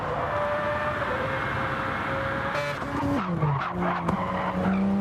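Race car engine roaring at high revs in the racing video game Gran Turismo 7 on a track's final corners, with a steady loud drone, a shift of pitch partway through and tire skidding on the straight.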